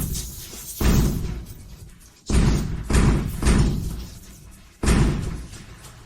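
A door takes heavy blows from people trying to break it down, with five loud, booming thuds at irregular intervals and short pauses of rumbling quiet between them.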